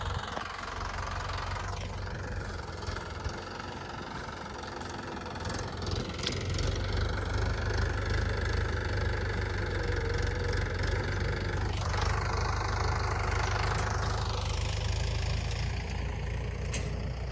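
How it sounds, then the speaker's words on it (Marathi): A tractor engine runs steadily through a wheat-sowing field, a continuous low rumble with knocking pulses that rises and falls in pitch as the machine works, rising slightly louder partway through, with no talking. "इकडे आपला ट्रॅक्टर आहे."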